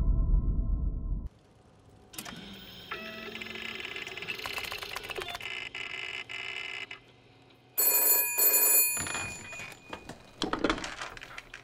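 A telephone rings in the Call of Duty Black Ops Cold War video game, heard as repeated electronic ring bursts with pauses, mixed with game sound effects and a low rumble.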